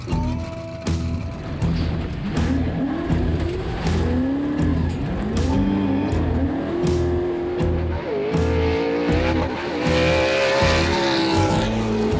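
A race car is driven hard on a fast Reno quarry track with tight corners. The engine revs and climbs loudly and steadily through gears, with tire squeal and skidding and no voices.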